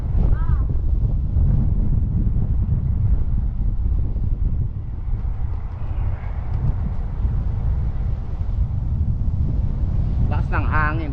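A strong, cold wind buffets the microphone outdoors, a loud continuous low roar for the whole stretch, with a brief voice near the end.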